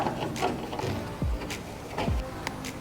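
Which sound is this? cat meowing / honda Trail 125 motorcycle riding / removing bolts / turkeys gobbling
removing bolts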